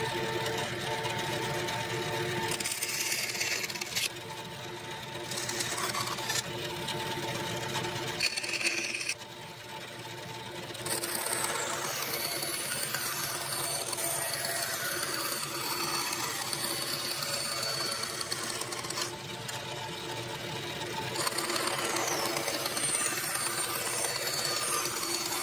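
A band saw with a 3/8 inch blade cuts the outline of a wooden spatula blank, a loud steady whining drone that dips briefly as the saw eases between cuts and then resumes, without any talking.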